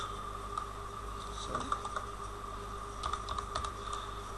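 Keystrokes on a computer keyboard as a spreadsheet formula is typed, scattered light clicks in short bursts over a steady background hum, close and fairly quiet with no talking.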